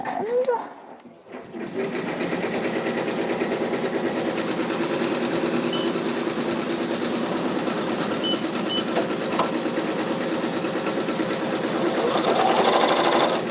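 An electric sewing machine runs continuously and steadily while failing to catch the bobbin thread, starting up after a brief quiet moment and humming with a fast mechanical rattle throughout.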